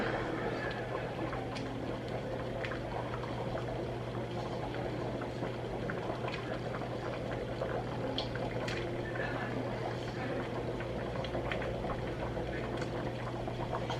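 Dumplings dropped into a pot of boiling liquid, thickened stew on a farm kitchen stove, give a steady, continuous bubbling roar with faint soft plops and clinks throughout, close and even in level, no talk.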